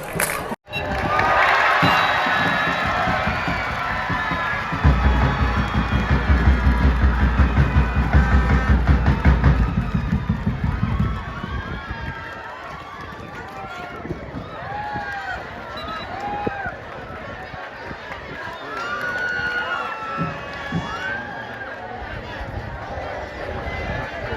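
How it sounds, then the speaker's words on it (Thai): A school's supporters cheer at an under-15 football match, a loud roaring crowd for the first ten seconds that then thins into scattered shouts and voices talking nearby. "บรรยากาศการกอนเชียร์ของโรงเรียน"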